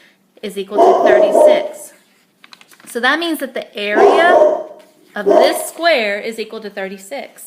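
A dog barks and whimpers in short repeated bursts in a room where a person talks continuously through a maths lesson.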